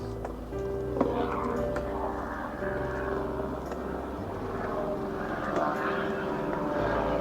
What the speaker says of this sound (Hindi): हेलीकॉप्टर तो वापस आ गया।